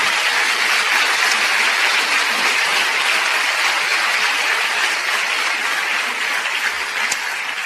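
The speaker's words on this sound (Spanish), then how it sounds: "¿Cuántos le dan un aplauso a él?" A church congregation applauds steadily throughout, a dense, even wash of many hands clapping at close range with no talk over it.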